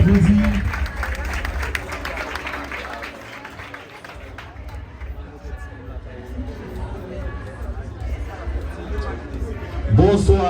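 A live audience applauds over loud background music, with crowd chatter and voices mixed in. The clapping is strongest at the start and swells again near the end.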